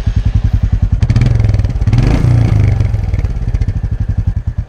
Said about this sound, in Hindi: इस मोटरसाइकिल का स्टोक एग्जॉस्ट नोट